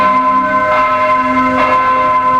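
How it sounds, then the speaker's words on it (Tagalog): Large bells of Manila Cathedral toll at noon, loud, with sustained ringing tones and two swelling strikes over a constant humming resonance. "ibinatingaw ng Manila Cathedral sa Maynila ang kanyang mga kampana"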